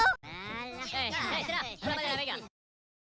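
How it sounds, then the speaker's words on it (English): A goose gives a string of loud, nasal honks in quick bursts, close and clear, with a brief pause partway through before the calls resume and then stop abruptly. "Time to go, Gabby Goose."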